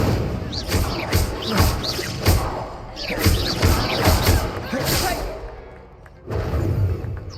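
Incendio fire spells are cast during spell combat in Hogwarts Legacy. Repeated whooshing, thudding bursts land in quick succession, with short gaps between clusters of impacts.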